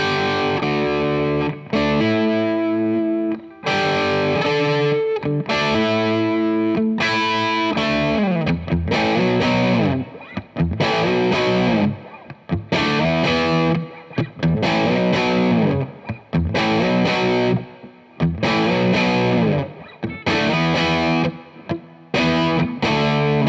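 A Les Paul electric guitar played through a Mad Professor Royal Blue Overdrive pedal gives loud, warm overdriven chords and riffs. Short pauses break up the phrases, with no talking.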